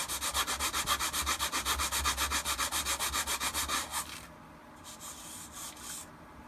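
Sanding a costume armor piece by hand with medium-grit 3M sandpaper, roughly 60 to 80 grit: rapid, even back-and-forth rasping strokes, close and steady, then a few quieter, scattered strokes near the end.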